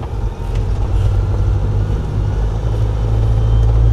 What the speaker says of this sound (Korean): 엔진 소리가 이 정도 소리 들리면서 가면은 예, 30이 안 넘습니다.